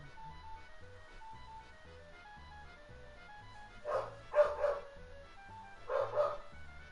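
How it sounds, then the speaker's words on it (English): A dog barks excitedly in several quick bursts, a pair and then another pair, over a steady background of video game music with no talking. "Because my dog is going crazy."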